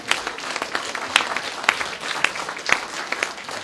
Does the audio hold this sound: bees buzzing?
no